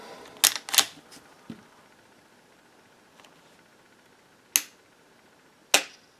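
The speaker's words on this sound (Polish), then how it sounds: "Zobaczcie jeszcze raz reset w tym pistolecie." A few sharp mechanical trigger reset clicks from a SIG P365 pistol, a quick pair followed by sparse isolated snaps spaced over several seconds, close and crisp in an otherwise quiet setting.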